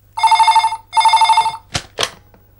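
Two long bursts of a classic telephone bell ring close and loud, each lasting about half a second with a trembling, rattling pulse, followed by two brief knocking or clicking sounds, in a domestic scene from a Tamil TV serial.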